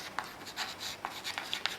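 Chalk or marker scratching and tapping across a board in a Class IX math classroom, a brief run of quick strokes and taps, close and fairly quiet, with no talking.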